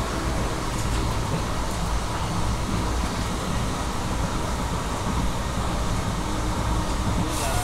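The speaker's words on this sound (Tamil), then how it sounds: "நம்ம ட்ரெயின் வந்து பார்த்தீங்கன்னா டுமுக்கூர் ஏரியாவிலேருந்து டிபார்ட் ஆகி போய்கிட்டு இருக்குங்க" Yesvanthpur to Vasco da Gama express train departing the Tumkur area, a loud, continuous rumble and rattle of rolling wheels and carriages that stays steady from start to finish.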